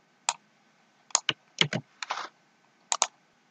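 Close keystrokes on a computer keyboard while entering data in a spreadsheet: about ten sharp clicks in small uneven clusters, separated by quiet gaps.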